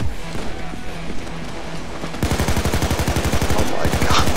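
Rapid automatic gunfire from a shotgun-heavy firefight in the video game Payday 2, erupting loudly after a quieter stretch of game ambience and hammering in a dense, fast rhythm to the end.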